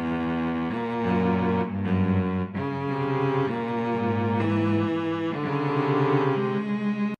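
A cello plays a slow, sustained melody of bowed notes that shift every second or so, heard alone without talk, from the 2005 film Cello.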